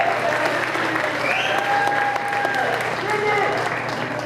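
An audience claps for students at a middle school winter band concert, sustained dense applause filling the hall at an even level, with a few voices and a faint tone audible over it.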